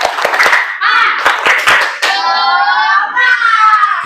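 A school class claps in a patterned rhythm for a spirit cheer, crisp hand claps in short bursts alternating with children's voices chanting along, close and lively.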